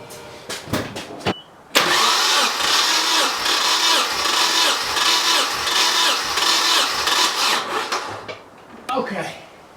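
A car engine cranks and catches after a few sharp clicks, then runs steadily at a rough, busy idle for several seconds before shutting off, followed by a few more clicks and a short burst of rattling.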